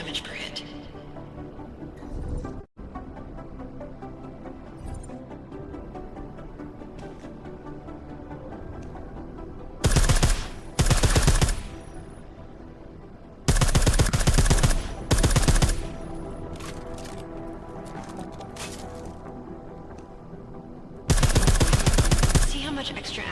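Silenced gunfire in the video game Deus Ex: Mankind Divided comes as several short rapid bursts of muffled shots, spaced seconds apart over a steady bed of background game sound.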